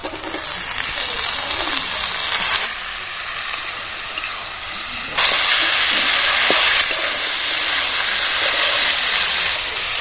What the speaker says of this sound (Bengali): এবার পুয়ের গুলো দিয়ে দিচ্ছি